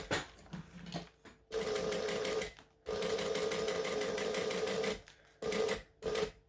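Sewing machine stitching through bulky layers of fabric while making a wristlet: short stop-start bursts of rapid mechanical whirring and needle clatter, close and loud, with pauses between runs.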